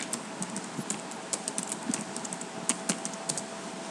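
Typing on a computer keyboard, a steady run of light, quick key clicks with uneven rhythm, close and fairly quiet, with no talking.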